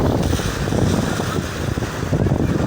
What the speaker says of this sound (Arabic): صوت المياه